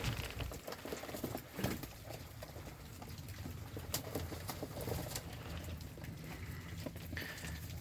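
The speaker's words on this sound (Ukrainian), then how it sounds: "Покажу вам голубів." Soft coos from yellow pigeons murmur through a steady, noisy background in a pigeon loft, with occasional light taps and flutters scattered across the clip.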